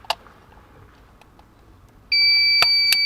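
A Kia Sedona Carnival OEM key fob remote starter module beeps after its power connector is attached, starting with a faint click, then a loud, steady electronic tone with two sharp pulses near the end.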